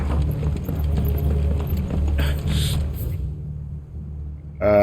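Horses in the video game Final Fantasy XVI clop along steadily under a low rumbling backdrop, the hoofbeats continuous before fading out near the end.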